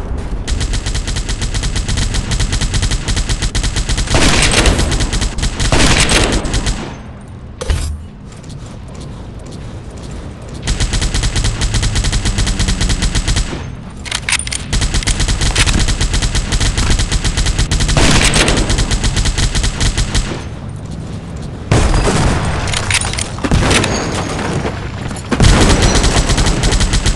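Dense gunfire fills a World War Heroes battle with a Mauser 98k sniper rifle: loud, near-continuous bursts of shots and booms with short pauses between volleys.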